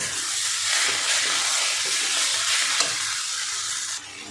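Water spinach with turmeric and salt is stirred in a pan, giving a continuous soft sizzle with light scraping and stirring strokes close by.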